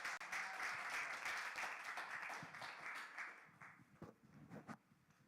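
At a National Action Network gathering, an audience applauds a speaker coming up, with dense clapping that holds for a few seconds and then thins out into scattered claps and small noises.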